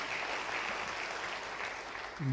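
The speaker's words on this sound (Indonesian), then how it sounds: "Beri tepuk tangan bagi dia." A church congregation at an online revival service applauds in a soft, continuous wash of clapping, fairly faint and even throughout.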